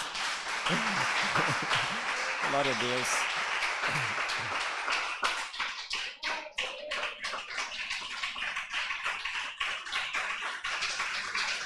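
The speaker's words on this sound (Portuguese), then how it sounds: "Dê uma salva de palmas para Jesus." A church congregation claps in a strong round that becomes sharper and more distinct toward the end, while a voice briefly speaks and sings over the start.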